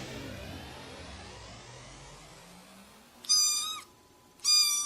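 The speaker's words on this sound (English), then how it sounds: "Oh, the sound of a tiny kitten." A tiny kitten gives two short, high meows close up, with a car engine fading in the background.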